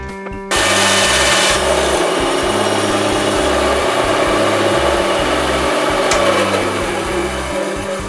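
A new bandsaw cutting a large piece of wood gives a loud, steady motor drone with a pulsing low hum and a constant whir that holds evenly throughout.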